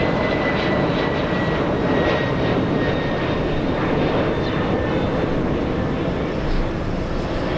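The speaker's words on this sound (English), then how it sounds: "We have another exec jet, a Gulfstream G500." A Gulfstream G500 business jet takes off and climbs out of Los Angeles International Airport, its engine roar loud, steady and broadband across the whole stretch with no voices over it.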